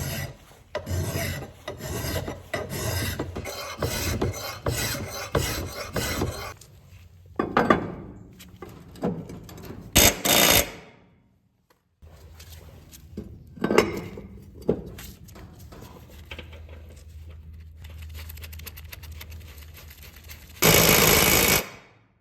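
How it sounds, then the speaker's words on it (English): Mill bastard file rasping along a lawn mower blade to sharpen it, loud repeated strokes in steady rhythm for several seconds, then a few scattered scrapes and clunks with a short burst of rough grinding near the end. "Hit it with that mill bastard file."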